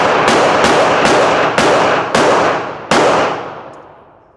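Six rapid gunshots from an M&P 10mm pistol fired at an outdoor range, loud and sharp, roughly half a second apart with a slight pause before the last shot, followed by a fading echo.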